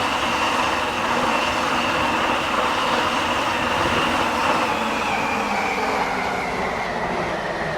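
A train in the video game Stepford County Railway runs on the Waterline service, a loud continuous rumble of wheels on rail with rising and falling whine, no voices.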